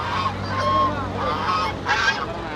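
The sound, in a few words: geese honking at a riverside market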